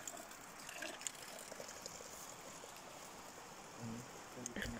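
Steady broadband rush of flowing water, like a river nearby, continuous throughout with a few faint bumps and a brief low tone near the end.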